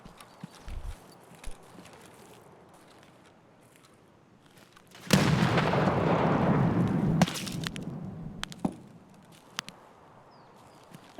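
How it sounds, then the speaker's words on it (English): A thrown grenade in a tactical shooter, Rainbow Six Siege, bursts into a loud broad blast that holds for about two seconds, then fades into scattered clicks and sharp impacts. No one speaks. "I'm gonna throw a nade down, see if you move"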